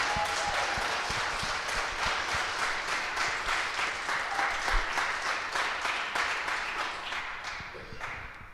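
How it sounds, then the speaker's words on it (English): Audience applause for an all-star panel at a school-focused teacher pipeline event, a dense steady wash of many hands clapping for about eight seconds before tapering off at the end. "Can we just have a round of applause for this panel?"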